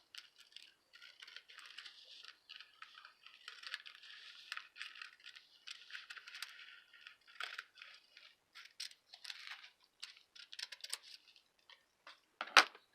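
Scissors snipping through a folded wax paper bag, a rapid run of small crisp cuts and crinkles, close and fairly quiet, ending with a louder snip.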